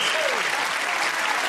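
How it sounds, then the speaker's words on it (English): Studio audience applauding on a television entertainment show, a steady dense wash of clapping that fills the whole moment at close, loud level with no talk over it. "Give the others a round of applause as they go off."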